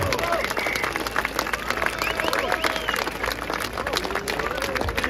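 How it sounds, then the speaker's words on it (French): A crowd gathered at an outdoor political rally on Place des Victoires in Paris applauds loudly and steadily, with cheers and voices mixed into the dense clapping throughout. "Bravo à Lorraine, on peut applaudir très fort."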